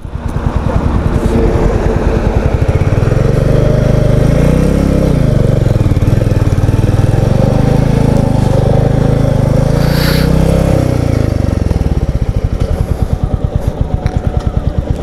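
Royal Enfield Meteor 350 motorcycle engine running steadily close by, a loud continuous low thump that swells and dips in pitch through the middle before easing near the end, with no talk over it.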